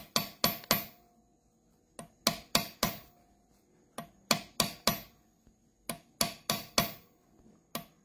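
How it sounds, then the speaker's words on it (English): Metal being chased with a hammer while carving a simple ring impression die, heard as sharp close ringing strikes in quick clusters of three or four separated by short pauses, with no talk. "Right now, we're just hammering metal down."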